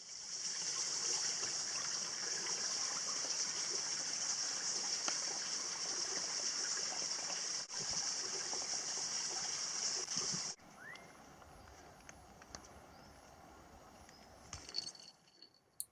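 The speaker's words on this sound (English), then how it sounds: "To see a waterfall." Steady broadband rush of falling water from a waterfall at America Bay near Pittwater, Sydney, heard continuously and fairly close for about ten seconds before it drops away to quieter ambient water sounds.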